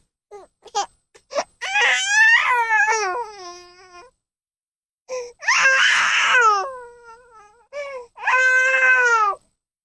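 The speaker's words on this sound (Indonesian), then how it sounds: "terdengar jeritan tangis seorang bayi" A baby cries in loud, drawn-out wails with short gasping breaks, first in several bursts and then in two long cries, performed as part of a children's Christmas nativity play.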